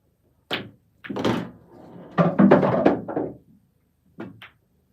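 Billiard balls clack during a solo pool practice session, with a few sharp knocking impacts spaced across a few seconds and a denser cluster of collisions in the middle, close and fairly loud in a quiet room.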